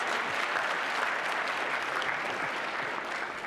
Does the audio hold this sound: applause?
yes